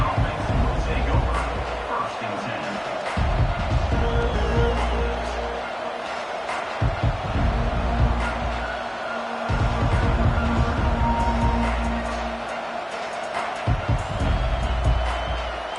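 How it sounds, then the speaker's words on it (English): Loud, sustained roar of a stadium crowd at an American football game, steady throughout, with a commentator talking over it. "This crowd bringing an ear-splitting welcome to their visitors"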